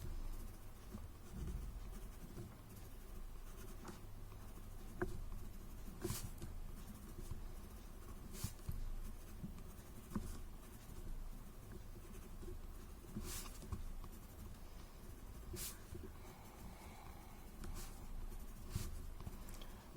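Graphite pencil shading the crossings of a hand-drawn tangle chain pattern on paper, a soft, steady scratchy scribble close up, very quiet, with occasional small taps.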